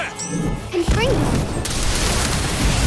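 A Confringo spell cast during a Harry Potter: Magic Awakened duel bursts out as a dense, explosive whoosh with a rising tonal sweep, a loud, sustained crackling blast over busy game music and effects.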